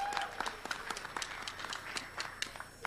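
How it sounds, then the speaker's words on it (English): A conference audience at a labor session on rebuilding the UAW applauds, with a steady patter of many hands clapping at a moderate distance and no voices on top. "Yes, you can cheer for that."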